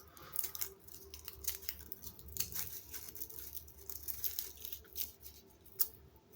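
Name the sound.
scissors trimming material into a circle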